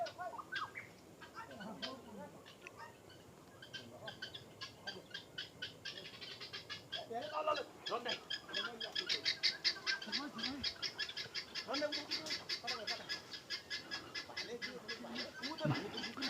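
Kalij pheasants at a large pheasant farm in Gurase, Surkhet, give scattered chirps and clucks, growing into rapid repeated calls in the latter half, mixed with quiet background voices.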